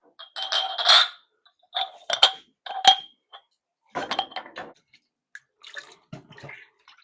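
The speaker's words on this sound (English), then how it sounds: "I'm just gonna soak them in cool water, wash them off, rinse them really well" Banana peppers being washed and rinsed in cool water, with intermittent splashing and sloshing bursts, close and fairly quiet, separated by short pauses.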